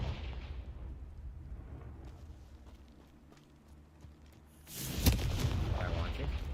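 A Confringo spell from Hogwarts Legacy bursts into a loud, booming explosion after a quiet stretch of faint background sound, the blast rumbling on and fading over a couple of seconds.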